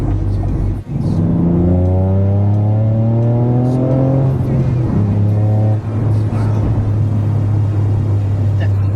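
A Toyota GR Yaris engine with a tuned ECU revs up through rising pitches, drops back, then climbs again, loud and close with a throaty rumble.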